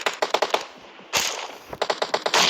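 Pistol gunshots in a shooting video game, sharp snappy reports in quick bursts with short gaps, close and loud, mixed with game noise.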